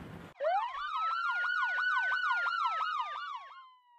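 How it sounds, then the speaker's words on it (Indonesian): A loud wailing siren sweeping up and down in a steady, rapid rhythm, close by, starting abruptly and holding for several seconds with no talk. "Suara sirene ini membawa harapan."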